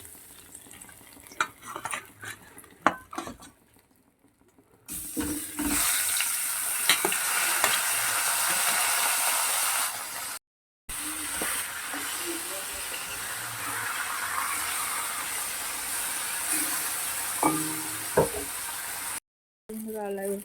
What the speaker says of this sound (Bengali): বাকি যে মুড়োটা সেটাকেও ভালো করে ভেজে তুলে নেবে